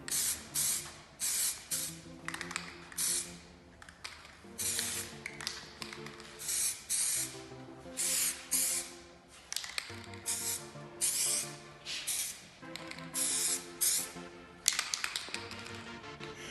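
Spray paint hisses onto plastic car parts in short repeated bursts, each burst preceded by a rattling shake of the can, close and loud with brief pauses between.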